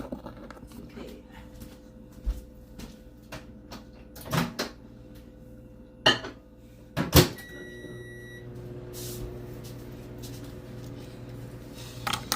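A microwave oven heating hot dogs gives a steady low hum with a beep tone, while cupboard and door clunks and knocks sound around it and people talk quietly.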